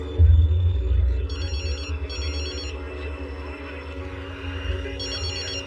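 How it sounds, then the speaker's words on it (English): Telephone rings unanswered, three short bursts of ringing heard faintly over a low rumbling background bed. "They're not answering their phone."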